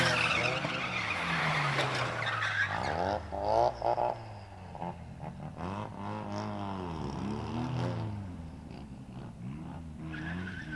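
A street drift car spins out, its tires skidding and squealing in long wavering screeches over a loud revving engine for about eleven seconds, close and continuous with no talk.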